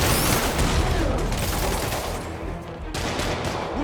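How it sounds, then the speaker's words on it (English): Rapid gunfire from a shootout in Marvel's Spider-Man Remastered, loud machine-gun style bursts and shots rattling continuously, with faint voices in the mix. "That shootout's gonna get someone killed."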